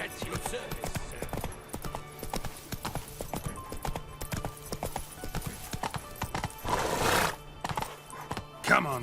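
Geralt's horse Roach in The Witcher 3 clip-clops along with steady hoofbeats and gives a clear neigh and whinny near the end, set against game ambience and some talk.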